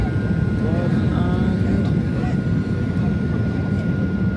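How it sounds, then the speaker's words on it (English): Aircraft engines whine and rumble steadily on an airport apron just after a passenger plane has landed in Spain, loud and continuous, with people talking nearby over the noise. "There's the plane literally there."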